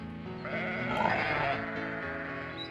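Sheep bleat in the Babe PS2 video game from 2006, a loud wavering call rising over a background of game music, with no talk.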